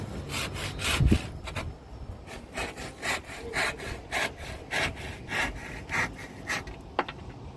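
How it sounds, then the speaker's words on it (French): Close, rhythmic hand sawing through a piece of wood during renovation work aboard a boat, with regular back-and-forth strokes and a brief knock early on. "je suis obligé de couper un peu la pièce de bois"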